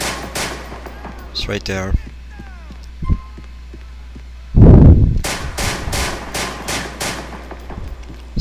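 Gunshots in GTA IV, a police-patrol game set in a city, burst out in a loud cluster followed by a quick run of evenly spaced sharp cracks, with someone talking briefly nearby.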